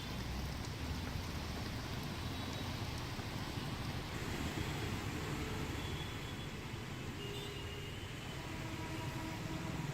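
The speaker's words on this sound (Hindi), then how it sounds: "अगले कुछ घंटों में बारिश और तेज हो सकती है" Heavy rain pours steadily in Mumbai, a dense, even hiss of downpour on surfaces with no letup, close and continuous.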